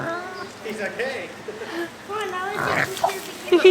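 A pig lets out odd, funny grunting and squealing noises close by, mixed with people talking and cooing at it throughout.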